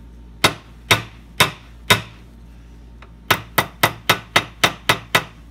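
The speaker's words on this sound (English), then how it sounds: "I'm gonna give it a few whacks this way" A hammer round-peening a part of an antique double bit key mortise lock: four evenly spaced sharp metallic taps, a pause, then a quicker run of about eight lighter strikes, close and clear.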